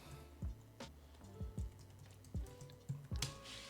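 Computer keyboard typing in short bursts of clicks and key taps, close and fairly quiet, with brief pauses between groups of keystrokes.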